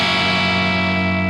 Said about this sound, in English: To me, that's a perfect amount of distortion.